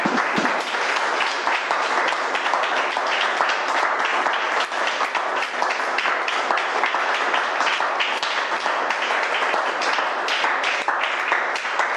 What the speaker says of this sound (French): C'est pour cela que nous allons faire une ovation à notre Dieu